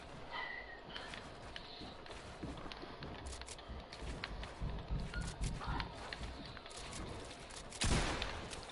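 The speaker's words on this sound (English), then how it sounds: "who is shooting at me?" Gunfire aimed at the player in a video game, a steady run of shots and rattling bursts spread across the scene, with one louder, sharper crack near the end and no talk over it.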